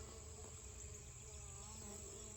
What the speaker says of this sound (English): I love watching bees work.